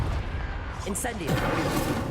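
The Incendio fire spell cast in the video game Hogwarts Legacy: a dense, roaring burst of flame and blast noise fills the moment, rumbling and crackling throughout the short span.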